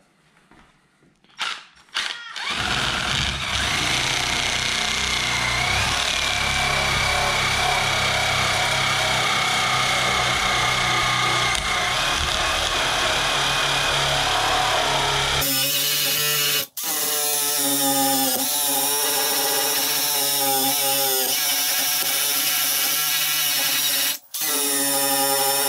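A power tool whirs continuously and loudly as it strips material and rust off car bodywork, a steady high buzzing drone that shifts pitch partway through, with brief stops and restarts.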